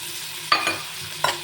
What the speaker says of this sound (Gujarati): હવે હું આદુ મરચાં અને લસણની પેસ્ટ લઈશ એક ચમચી